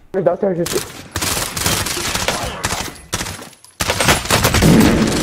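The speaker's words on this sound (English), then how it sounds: "They wanted me to use the burst perk on the MP5." Rapid bursts of MP5 submachine gun fire with the burst perk in the video game Warzone, loud and close, arriving in several clusters separated by short gaps, with a voice briefly at the start.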